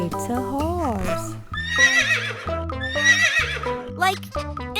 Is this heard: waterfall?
no